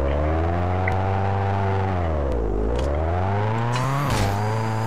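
A car engine hums steadily, its pitch dipping and rising as the vehicle pulls away and drives on, with a brief surge near the end.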